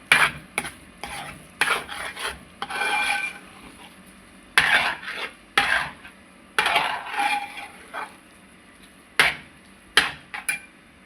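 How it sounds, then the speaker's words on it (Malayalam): A spoon stirring green gram stir-fry with coconut oil in a pan, scraping and clattering in irregular bursts close by, with a faint sizzle in between and no talk. "വെളിച്ചെണ്ണ ഒഴിച്ചു കൊടുത്ത് നല്ലപോലെ മിക്സ് ചെയ്യുക."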